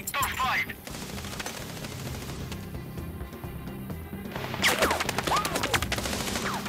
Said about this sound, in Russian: Как-то кто там стреляет,